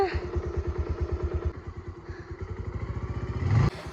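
A motorcycle carrying a whole family chugs along with a steady, close, pulsing engine beat while voices talk over it, and the engine briefly swells louder near the end.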